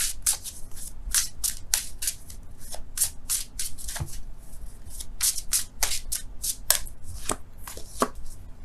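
Tarot cards are shuffled and drawn by hand at close range, giving a rapid series of crisp riffling flicks and slaps in irregular bursts, with no talking.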